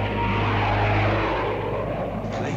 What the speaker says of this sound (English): Planes? How low they're flying?